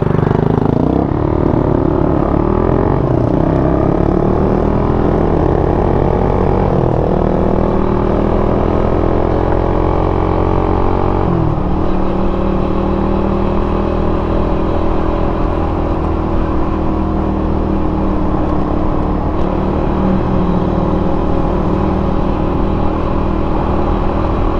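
Two motorcycles, a Bajaj NS200 and a Suzuki Raider 150 Fi, drag racing: loud, continuous engine roar with rising revs through the gears, a shift near the midpoint, then sustained high-speed drone throughout.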